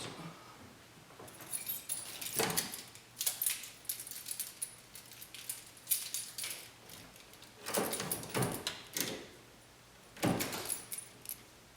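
Keys jangle inside a Nissan 240sx with a stripped interior, coming in several separate bursts of bright metallic clinking between quieter pauses, close to the microphone.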